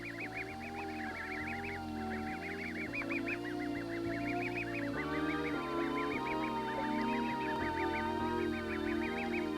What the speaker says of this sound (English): Near the campsite, the imprinted goslings are also getting their feet wet